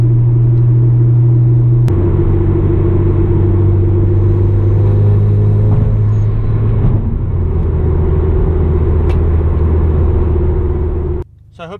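A 2.0T Hyundai Genesis Coupe rumbles steadily from inside the cabin as it drives along, its low engine drone holding a constant pitch with small shifts and a brief click near the start before it cuts out at the end.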